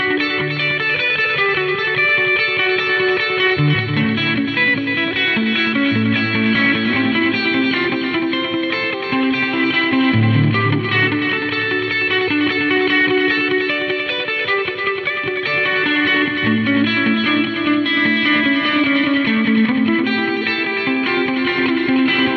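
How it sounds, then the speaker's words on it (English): A clean electric guitar through a Marshall Code amp plays slow chords and melodic lines, drenched in huge stadium reverb with echoing studio delay trails, no voices. "I've got a huge amount of stadium reverb and then the studio delay"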